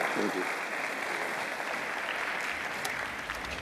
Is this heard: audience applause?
yes